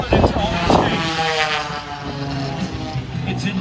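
A stunt airplane at the 2020 Stuart Airshow trails smoke as it flies past, its engine a loud, steady droning roar that swells and wavers slightly in pitch throughout.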